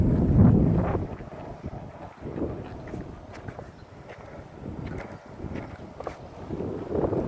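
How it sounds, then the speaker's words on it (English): Steady wind buffeting a microphone while a rider pushes a Subsonic Century 40 longboard into a headwind, a rough low rumble that rises and falls for several seconds with no talk. "It's windy today. I'm like going against the wind"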